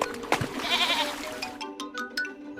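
A goat bleats once in a wavering, nasal call up close, followed by scattered clatter and small knocks from the surroundings.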